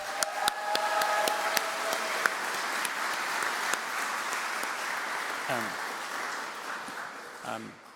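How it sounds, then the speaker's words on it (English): Audience applause at a 2017 Corcoran School graduation ceremony, a steady wash of clapping with a few sharper nearby claps, holding evenly for the whole stretch and fading slightly near the end. "Let's have another round of applause for Ricky's remarks"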